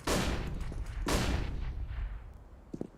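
Two sharp flashbang blasts from a video game firefight, each a loud crack with a decaying tail, followed by a faint, brief thump near the end.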